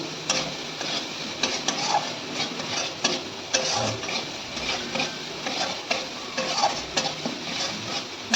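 Spice paste frying in oil for a ridge gourd, potato and katla fish curry, with a continuous sizzle broken by regular scraping stirs of a spoon against the pan, close and unaccompanied by speech.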